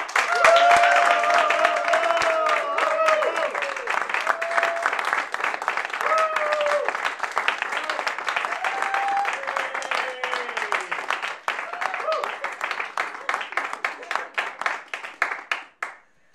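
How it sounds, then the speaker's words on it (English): Sustained applause from a sizable crowd, dense clapping throughout, with a few voices and whoops mixed in, tapering off near the end. "Huge round of applause for Maggie."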